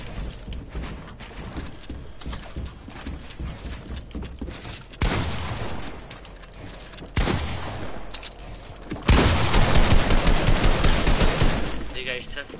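Video game gunfire crackles throughout in bursts of rapid shots. The fusillade grows louder and denser in the final seconds, running continuously with no voices heard.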